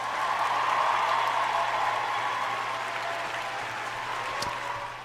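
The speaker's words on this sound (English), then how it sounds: "Give them a round of applause." A steady wash of audience applause holds evenly throughout and fades slightly toward the end, with a faint low hum underneath.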